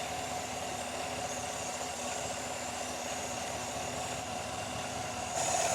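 A 2019-2021 Chevrolet Silverado with an oil catch can fault idles with a steady hum and a constant loud hiss from a vacuum leak. The sound swells slightly near the end, and nobody speaks.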